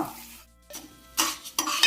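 Moong dal frying in ghee, a crackly sizzle with scraping stirs that comes in bursts, fading briefly to near quiet before rising loud again up close.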